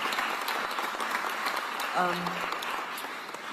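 An audience applauds steadily, a dense wash of clapping throughout, with a brief voice rising above it midway.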